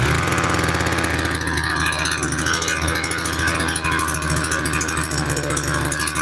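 A petrol strimmer with its choke on runs steadily, a continuous buzzing two-stroke engine drone that stays loud and close throughout without pause.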